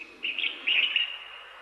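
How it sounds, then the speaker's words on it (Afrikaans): Birds chirp briefly in tree branches, two short bright bursts of song over a soft steady background with no voices. "Voëls sing in die takke."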